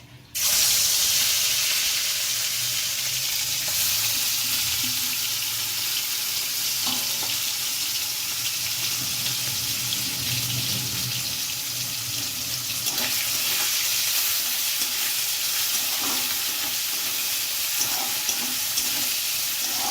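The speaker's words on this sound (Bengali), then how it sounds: "চিংড়ি মাছটা অল্প ভাজা ভাজা করে নেব" Continuous hissing sizzle of shrimp frying in hot oil, close and steady, with occasional stirring clinks over the bubbling.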